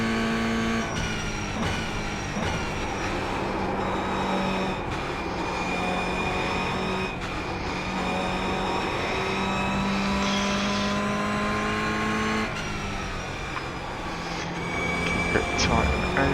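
A production race car engine drones steadily at Lime Rock Park in iRacing, its pitch rising and falling through gear changes and corners, loud and close, with a voice talking over it.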